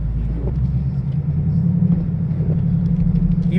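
A 2018 Ford Mustang GT on Michelin X-Ice snow tires drives through a blizzard under gentle throttle, giving a steady, deep, close engine rumble with no talk over it.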